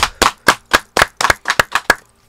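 Claps for a rapper come as about nine distinct, sharp hand claps in an uneven rhythm, loud and close, stopping abruptly, with no talking over them; a few hands rather than a crowd.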